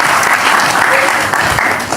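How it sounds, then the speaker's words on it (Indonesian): A crowd at an Indonesian political talk bursts into steady, loud applause, dense clapping filling the space for a couple of seconds. "Kita berikan tepuk tangan dulu."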